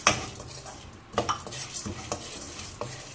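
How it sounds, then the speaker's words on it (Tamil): Chana dal and urad dal dry-roast in a pan for curry leaf chutney, with a metal spoon scraping and clinking against the pan in short bursts over a faint rustling sizzle. "1 நிமிஷம் வறுபட்டோன்னே கடலைப்பருப்பு சேர்த்துக்கலாம்."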